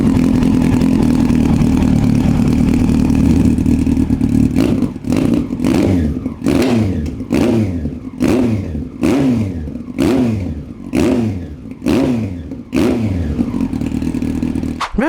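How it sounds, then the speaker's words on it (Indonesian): Second-generation 2001 Yamaha R1 with a carbureted engine revving repeatedly, about a dozen sharp throttle blips rising and falling in a steady rhythm over a loud idle, close by with no talk. "mungkin teman-teman pada penasaran ya sama bunyi dari suara motor R1 generasi kedua ini"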